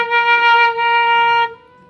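A Sundanese four-hole bamboo suling degung flute plays the note ti, a single clear sustained tone held for about a second and a half before stopping, close and alone.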